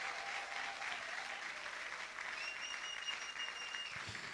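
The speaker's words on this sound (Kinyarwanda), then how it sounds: "komera imana amashyi. Applaud to Jesus." A church congregation applauds during a worship service, a continuous wash of clapping heard faintly and at a distance, with a thin tone sustained above it.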